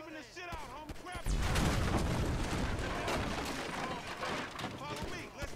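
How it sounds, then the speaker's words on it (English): Rapid, loud bursts of gunfire in the video game GTA V, with dense dull booms filling most of the stretch and a voice talking near the start and end. "Yeah, we're just shooting."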